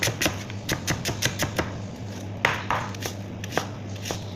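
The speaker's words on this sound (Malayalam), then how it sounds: "സവാള ചെറുതാക്കി കട്ട് ചെയ്യട്ടോ" Knife chopping onion on a board for a tuna masala, a steady series of sharp, close taps in quick rhythm with short pauses, over a low background hum.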